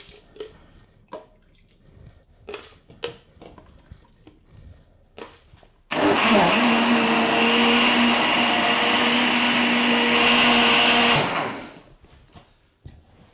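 Blender motor whirring loudly as it purees leek and potato vichyssoise, starting abruptly after a few soft kitchen clicks and running steadily for about five seconds before winding down.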